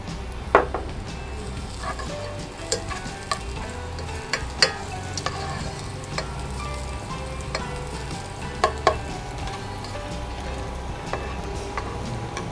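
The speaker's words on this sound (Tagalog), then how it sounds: "Naglagay na ako ng oil dito. Lalagyan na natin ng bawang." Garlic fries in hot oil for guisadong upo, a steady close sizzle broken by sharp clinks and scrapes of a utensil against the pan, with no talking.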